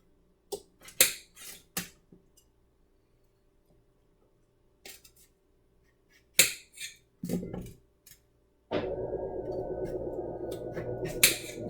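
Knife slicing zucchini into fries on a cutting board, a few sharp close chops spaced irregularly, with a couple of softer cuts, then a steady rough rumbling noise fills the last few seconds.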